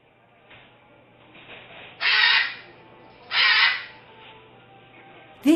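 Two loud, harsh squawking calls from a colourful parrot with blue wings and a yellow tail, each lasting about half a second with a pause between, and a brief third squawk at the end over a quiet background hum.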